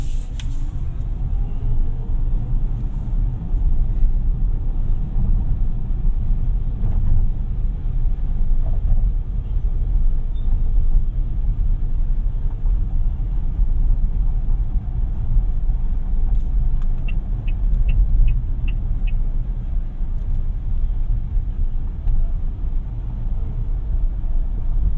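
Weltmeister W5 front-wheel-drive electric car heard from inside while driving: a steady, loud low road and motor rumble throughout, with faint high electronic tones now and then and no talk.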